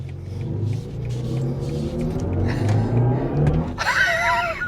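A 2026 BMW iX M70 electric SUV drives steadily around a corner with a low rumble and road noise, then a brief higher whine and tonal chirps near the end.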